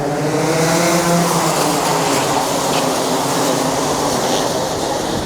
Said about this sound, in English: They come to the line. Looks a good start, Henry.